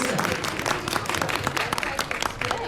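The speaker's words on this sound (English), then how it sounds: "Big round of applause here." Theme-park animation class audience applauding an animator, a short burst of clapping from a crowd with a voice talking over it.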